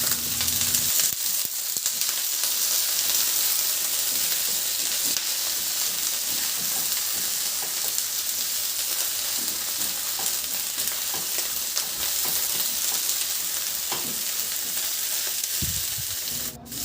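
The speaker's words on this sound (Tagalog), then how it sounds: "ilagay ko na rin yung hotdog na pinirito natin at saka yung patatas at yung cauliflower" Steady, loud sizzling as fried hotdog, potatoes and cauliflower are sautéed in a hot pan, continuous frying hiss with a few stirring clatters and no talking.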